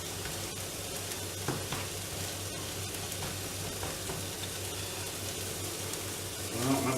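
Tomatoes and scrambled egg frying in a single pan for a cooked breakfast, a steady close sizzle with occasional stirring scrapes, louder briefly at the end.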